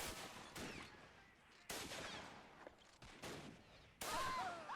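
Gunfire rattles through a WW1 fort siege battle in a video game: sharp single shots and rapid bursts mix with distant booms, faint under the general din of battle.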